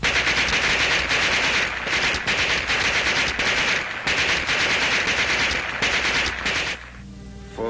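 Sustained machine gun fire rattles loud and close in rapid, nearly continuous bursts, then cuts off abruptly near the end.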